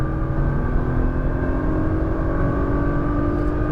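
A Nissan GT-R pulls hard on a race track at Exotics Racing Las Vegas, its engine holding a steady, loud roar with sustained tones throughout, close and uninterrupted by speech.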